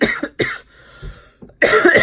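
A woman coughs several times in quick bursts, loud and close, with short pauses between the harsh coughs and a final longer cough.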